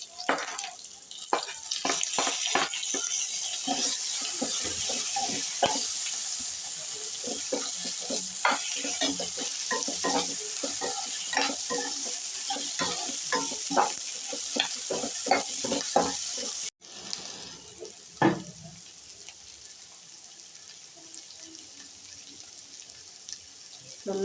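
Green chilies and onion frying in a pan with cashews and coconut, making a loud, continuous sizzle with repeated stirring clatter that drops suddenly to a quieter sizzle partway through.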